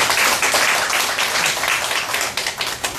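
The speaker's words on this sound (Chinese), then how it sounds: "我们鼓掌欢迎何菩萨。" An audience applauds steadily to welcome a speaker at a Buddhist education foundation talk, dense sustained clapping filling the room with no one talking over it.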